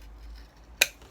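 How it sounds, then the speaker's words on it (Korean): Scissors make a single sharp snip through a plastic bottle, one brief crisp click close by against near silence. "가위로 자를 때는 한 방에 자르는 게 좋아요."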